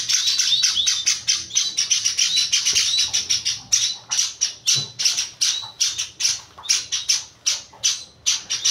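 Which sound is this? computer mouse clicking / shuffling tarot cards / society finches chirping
society finches chirping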